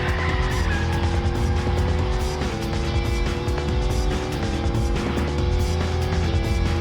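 A little yellow car races in a video game, its engine droning steadily with tire squeal and skidding, all under a continuous loud music backdrop.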